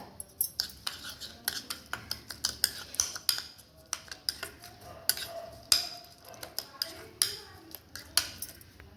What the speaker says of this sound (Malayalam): ഒരു ടീസ್പൂൺ ഡെറ്റോൾ ഒഴിച്ചു കൊടുക്കുക എന്നിട്ട് നന്നായിട്ടൊന്ന് മിക്സ് ചെയ്യുക